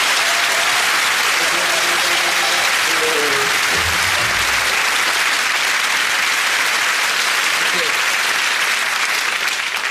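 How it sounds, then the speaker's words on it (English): Studio audience applause during a sketch comedy show, a dense, sustained clapping that fills the clip at full volume, with faint voices and laughter murmuring underneath. "Audience applauds."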